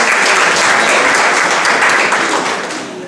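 Dense, loud applause from an audience at a round-table gathering of labour and war veterans in Dubăsari, honouring a 90-year-old veteran, sustained then tapering off near the end.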